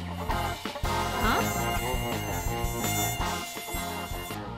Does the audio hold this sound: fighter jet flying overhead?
no